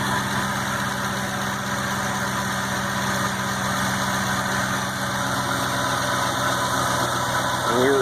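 Lincoln Navigator with a rebuilt 5.4 3V engine idling smoothly and steadily, a constant close, even drone throughout without talking.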